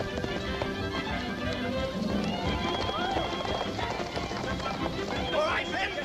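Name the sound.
horses galloping away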